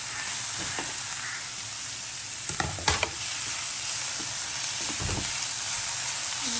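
Onion and tomato fry in a pan with an even, constant sizzle, joined by a few soft clinks and stirs of a spoon midway.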